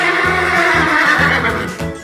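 A horse whinnies loudly and close, a long shaky neigh with a fluttering rhythm that fades toward the end.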